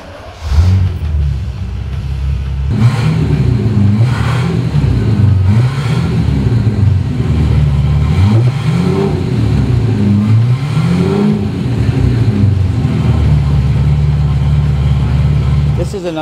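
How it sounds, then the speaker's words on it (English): A 1973 Jaguar XKE roadster engine rumbles and revs in repeated rising and falling surges, loud and close, with a person talking over it at times. "how about I start it for you so you can hear what it sounds like."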